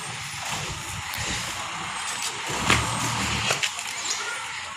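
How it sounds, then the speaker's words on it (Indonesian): A garbage truck idles and rumbles near a market on collection day in Kersik Tuo, Kerinci, its low engine drone steady with brief louder bursts and faint street noise around it. "Nah, itu adalah truk sampahnya"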